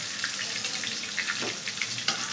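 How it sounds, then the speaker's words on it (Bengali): Fish fry in hot oil in a pan, giving a steady, soft sizzle and crackle with light spatters and no voices. "এই যে এখন মাছগুলো ভাজা হয়ে গেছে, মাছগুলো উঠে রাখতেছি আমি"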